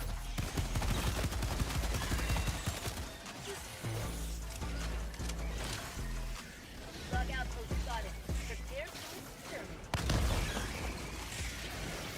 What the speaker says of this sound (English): Bro, I want to shoot for a second.